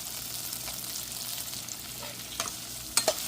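Green chilli slits, finely chopped onion and fresh curry leaves fry in a hot tempering, a soft continuous sizzle with a few sharp crackles and stirring clicks toward the end.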